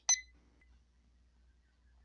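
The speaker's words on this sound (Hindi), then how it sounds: "ये अलार्म शो हो गया क्योंकि अभी हमारे पास इसका लो जो ह्यूमिडिटी है वो कम है।" A single short, sharp electronic beep from an ST 3022 thermostat's humidity alarm sounds once, then gives way to a faint low hum.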